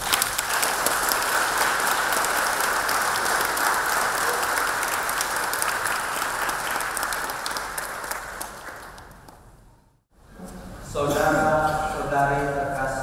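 A church congregation applauds newlyweds at a wedding, a sustained, loud round of clapping that fades away around the ten-second mark, followed by the start of organ or choir music.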